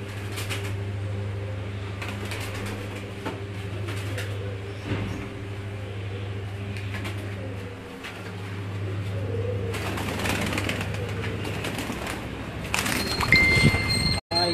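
Neel Dumbi pigeons bred in Faisalabad coo in a low, steady droning murmur that runs through most of the stretch, with a burst of wing flapping and rustling near the end.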